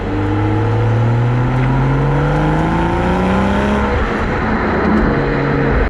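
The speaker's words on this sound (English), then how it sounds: "Selecting sport for this engine really wakes it up." A Toyota GR Supra with a manual gearbox, its engine in sport mode on a race track, pulls hard in-cabin with a loud, steady drone as its pitch climbs smoothly through a long acceleration.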